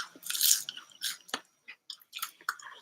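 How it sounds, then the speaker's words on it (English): Close crunching bites of a Popeyes fried chicken sandwich, several crisp irregular crackles and chews with short pauses between, no talking. "Can you hear the crunch?"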